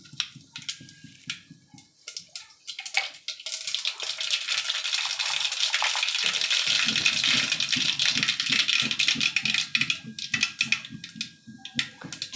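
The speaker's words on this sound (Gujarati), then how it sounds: "તો અડધી ચમચી મેં રાઈ ઉમેરીશું" Mustard seeds hit hot oil in a pan while tempering vaghareli masala khichdi, setting off a loud, sustained crackling sizzle full of rapid pops that rises after a few quiet clinks and keeps going for several seconds.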